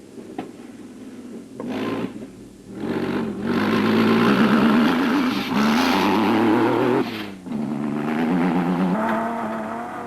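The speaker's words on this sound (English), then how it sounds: "Robert and Gareth Walk had got to grips with a lag from the twin turbos fitted to the Super Pave Chenoweth's Mitsubishi V6 motor and were in a handy fourth overall." A Chenoweth race buggy with a twin-turbo Mitsubishi V6 competes in the Nissan Dealer 400 off-road race, its engine surging and revving loudly with short drops between bursts.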